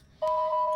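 A steady electronic telephone tone switches on abruptly and holds as a clean, sustained beep with a faint hum underneath.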